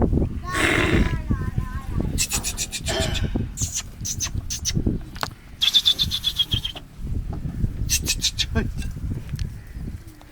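Sheep lambs for sale bleat repeatedly in bursts of wavering calls, some close and loud, over a noisy pen with shuffling and handling sounds at a livestock sale.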